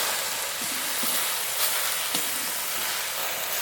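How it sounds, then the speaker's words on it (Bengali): Chopped jute greens fry with onions in a pan, giving a steady soft sizzle and hiss, with a few light scraping stirs. "কুচিয়ে রাখা পাট শাক দিয়ে দেব পেঁয়াজের সঙ্গে ভালো করে মিশিয়ে নেব শাক"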